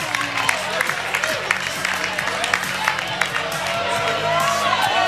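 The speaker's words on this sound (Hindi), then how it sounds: "जोरदार तालियां।" Loud applause and cheering from an audience at a quiz-style couples' competition, as the second-place team is announced; dense continuous clapping with some whoops and voices mixed in throughout.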